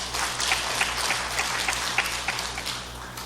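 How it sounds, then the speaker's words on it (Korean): A church congregation gives a short burst of encouraging applause during a sermon: dense, even clapping from many hands, fairly close and continuous, with no talk over it. "격려 박수 한번 하겠습니다."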